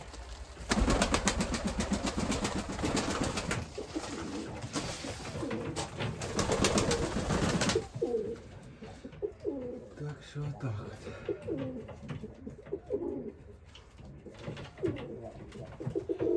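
Wings flap noisily at first, then Mykolaiv pigeons coo softly nearby while someone speaks briefly, and a faint engine hums in the background.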